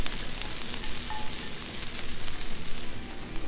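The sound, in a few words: hash browns turned over, sizzling on a Blackstone griddle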